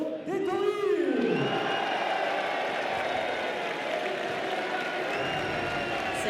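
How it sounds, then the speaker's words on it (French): A crowd at a horse racing track applauds and cheers for jockey Frankie Dettori, starting with a rising shout and settling into sustained clapping and crowd noise. "l'incroyable, l'exceptionnel, le magnifique, celui qu'on aime tous, toujours, et qu'on va applaudir très très fort"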